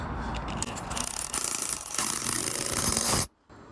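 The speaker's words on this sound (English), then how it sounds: "So let me just drill that." A power drill whirs loudly and continuously for about three seconds, grinding into wall mortar, then stops abruptly.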